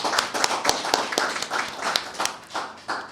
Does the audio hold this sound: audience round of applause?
yes